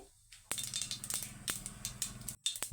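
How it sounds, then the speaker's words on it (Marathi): Cumin and mustard seeds crackling in hot oil, a run of sharp, irregular pops and snaps over a low sizzle, close up, with no talk. "आता जिरे मोहरी छान असे तडतडलेले आहेत"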